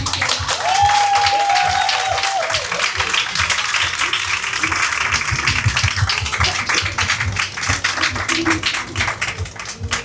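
A crowd applauds and cheers at a political debate at the Fête de l'Humanité, sustained dense clapping with whistles and voices, loud and continuous from start to finish.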